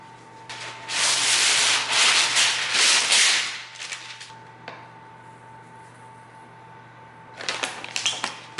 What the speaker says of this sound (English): now I'm going to roll it out, and then I'll cut it in circles and put it in the muffin tin